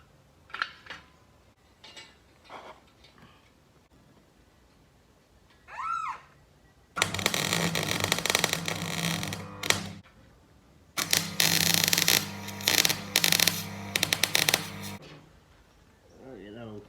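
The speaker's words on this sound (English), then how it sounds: "Let's just tack, just weld these up." Steel ramps being tack welded: two long bursts of loud, harsh crackling arc noise, each lasting a few seconds, preceded by quieter handling clicks and a brief voice.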